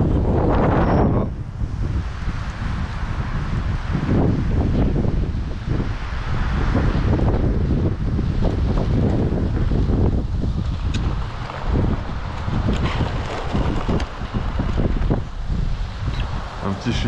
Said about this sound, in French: Attention, bourrasque devant là.